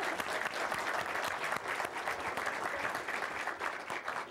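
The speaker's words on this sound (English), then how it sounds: "Big round of applause." An audience at a talk with a Japanese master chef gives a full round of applause, many hands clapping steadily and fairly evenly throughout with no voices on top.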